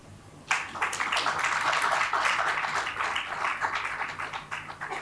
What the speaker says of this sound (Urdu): اب آپ تالی بجا سکتے